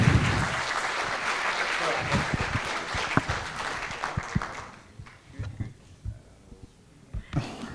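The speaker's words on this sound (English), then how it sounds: "je vous propose d'applaudir et de faire une ovation à Vesa Juvonen" Audience applause and an ovation for a speaker at a tech conference, a thick roar of clapping that fades out partway, leaving scattered thumps, handling noises and quiet talk.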